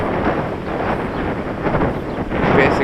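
Strong wind gusts outdoors at roughly 10 to 20 miles per hour roar steadily and loudly across the microphone as broadband buffeting, swelling slightly toward the end, with no voices.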